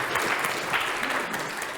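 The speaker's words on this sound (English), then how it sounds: "And applause." A short burst of audience applause after a talk on learning culture, steady and moderately loud throughout.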